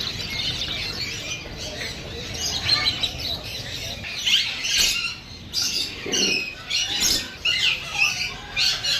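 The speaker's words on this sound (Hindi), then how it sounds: "पखियुनि जूं ॿोलियूं ॿुधण सां हिकिड़ो ॼण माण्हू खे सुरूर थो अची वञे" Lively chorus of pigeons and other birds chirping, squawking and cooing close by, overlapping continuously with busy background bustle at a bird market in Karachi.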